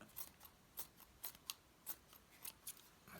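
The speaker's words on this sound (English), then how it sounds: "These scissors aren't the best, but they're doing in a pinch." Quiet, crisp snips of scissors cutting through fabric, repeated at an uneven pace with short pauses between cuts.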